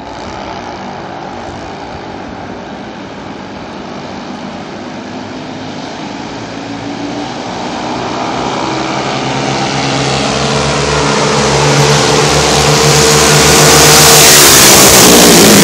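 Minibike engines revving hard on a quarter-mile race, a loud buzzing drone that rises steadily in pitch and volume as the bikes accelerate, with no talking.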